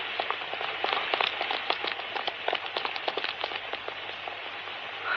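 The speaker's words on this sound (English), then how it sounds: "Oh, Lord, it's pouring again." A radio-drama rain effect pours down as a dense, crackling patter of drops, steady and fairly loud, with no voices.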